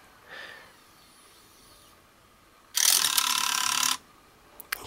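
A faulty Wii disc loading mechanism gives a loud, harsh ratcheting grind for about a second, after a faint click and whir and followed by small clicks, nearby and with no talking.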